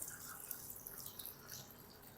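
Potato and rice snacks made with semolina fry in hot cooking oil over a medium-high flame, giving a steady, quiet crackling hiss with no voices.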